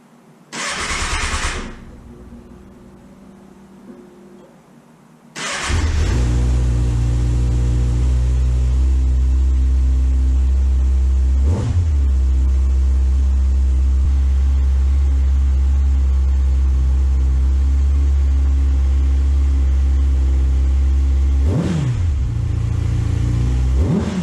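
A Kawasaki ZX-6R 636 motorcycle engine cranks briefly, then fires up to a loud, close idle after spark plug and air filter maintenance, with two sharp revs rising above the steady running drone.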